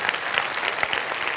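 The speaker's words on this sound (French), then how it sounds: "On peut l'applaudir" A conference audience applauds a speaker's testimony, steady close clapping filling the short moment with no talk over it.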